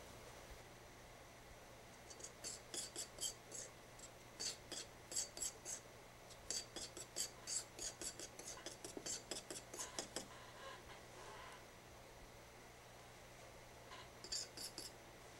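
Dental incisal porcelain powder being mixed with liquid for a zirconia crown build-up, faint rhythmic scraping and tapping strokes in short repeated bursts across a quiet room.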